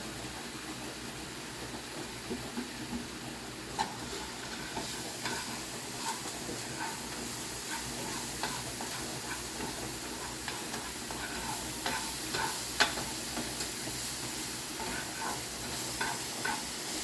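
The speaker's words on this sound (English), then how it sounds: "cooking the vegetables individually, you want to get them started because they're going to do most of their cooking in this pan" Vegetables and meat frying in a pan, a steady soft sizzle with intermittent scraping stirs and light clinks throughout, fairly quiet and close, no talking.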